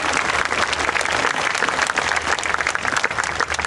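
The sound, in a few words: applause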